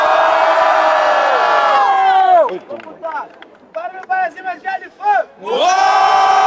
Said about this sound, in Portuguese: Barulho para cima de Brano